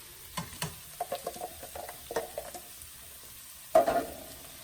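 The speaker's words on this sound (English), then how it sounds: "And in goes our zucchini noodles" Zucchini noodles are tossed in a sizzling pan with a creamy tahini sauce. Light clicks and clatter from the tossing come in short bursts over a soft sizzle, and a louder scrape-and-sizzle lands near the end.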